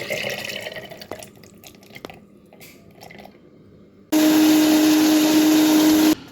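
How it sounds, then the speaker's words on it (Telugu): After some quiet dripping and clinks, a mixer grinder grinding soaked peanuts into paste switches on and whirs loudly and steadily for about two seconds before stopping. "ఇప్పుడు మనం దీన్ని మిక్సీ పట్టాలి"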